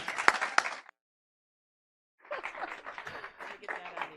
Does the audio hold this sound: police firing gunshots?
no